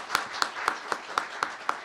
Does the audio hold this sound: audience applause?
yes